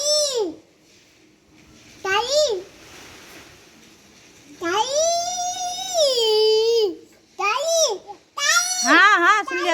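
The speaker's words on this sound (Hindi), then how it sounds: "सुबह से हमें लगा कोई बच्चा रो रहा है, पर अब ध्यान दिया बिल्ली है।" A cat wails loudly in long, wavering, child-like cries, several separate yowls with short pauses between them.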